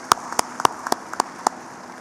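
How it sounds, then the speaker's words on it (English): A handful of sparse, sharp hand claps rings out from a small audience thanking the panelists at an LNG markets and infrastructure leadership panel, thin and scattered rather than a full ovation. "let's start off with a big applause and for thanks to all the panelists for making the time today"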